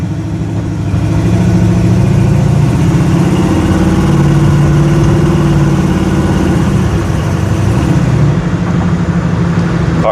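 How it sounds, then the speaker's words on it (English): A 1968 Chevrolet Nova SS custom build with its engine running steadily on a test drive, a loud, continuous low rumble with a faint rise in pitch, with no talk over it. "Car sounds amazing."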